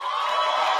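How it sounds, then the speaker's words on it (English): Studio audience at a comedy podcast taping clapping and cheering, a short, steady burst of crowd noise with no clear talk over it. "Clap it up."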